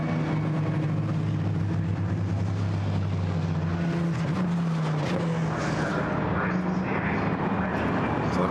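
GT4 race cars from the 2019 GT4 European Series at Brands Hatch, their engines droning loudly with shifting pitches as they pass, with a commentator talking over them.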